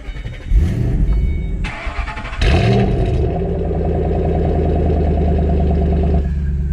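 A 2008 Shelby GT500 fitted with an H-pipe exhaust cranks and fires up, blips into a couple of sharp revs, then settles into a loud, steady, rumbling idle close by.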